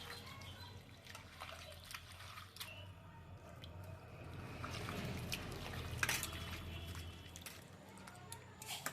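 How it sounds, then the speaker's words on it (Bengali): Chopped raw banana peels are swished and rubbed by hand in water, producing faint, close sloshing, squishing and dripping sounds throughout. "এবার আমি জল দিয়ে দিচ্ছি জল দিয়ে আর একবার এইরকমভাবে কজলে কজলে ধুয়ে নিচ্ছি"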